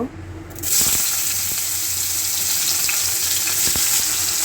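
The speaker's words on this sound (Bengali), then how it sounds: "উচ্ছেগুলো একটু আগে তেলের মধ্যে ভেজে নেব" Slices of bitter gourd drop into hot oil, and a loud, steady sizzle rises at once and keeps going. A few faint utensil taps sound over the frying.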